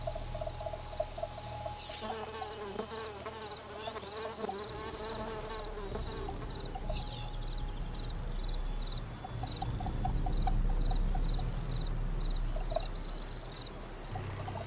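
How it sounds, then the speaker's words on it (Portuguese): Steady insect buzzing of flies hums throughout, rising and falling as they move close by, with a faint high whine and some soft rustling underneath. "Esse zumbido que as moscas fazem é geralmente resultado do movimento das asas"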